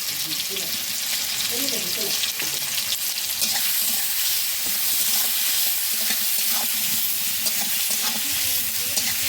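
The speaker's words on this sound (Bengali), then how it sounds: "মশলাটা নাড়াচাড়া করে সুন্দর করে মশলাটা কষিয়ে নেব।" A spice masala of tomato and onion with salt, ginger and garlic paste fries in a pan and is stirred. It gives a steady loud sizzle with scraping stir strokes throughout, close up, and no speech.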